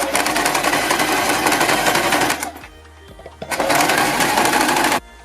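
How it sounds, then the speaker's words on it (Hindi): A sewing machine stitching fabric with a fast, loud, steady mechanical whir that stops for about a second and then runs again before cutting off abruptly. "इसके ऊपर एक रफ सिलाई लगा दीजिए"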